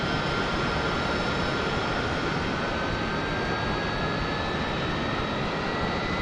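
Jet engine in the DCS World flight simulator roaring steadily as the throttle advances, a loud broadband rush with a high whine slowly rising in pitch, no talk.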